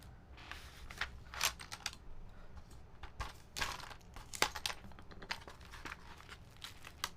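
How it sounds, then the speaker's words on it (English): Keycaps handled and sorted by hand, PBT sets included, a busy stream of small plastic clicks and clatters, close and fairly quiet, with no talking. "We're just organizing some keycaps here."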